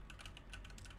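Rapid keystrokes on a mechanical keyboard with Cherry MX Red switches, soft thocking clicks in a quick, uneven rhythm, close and steady with no voices.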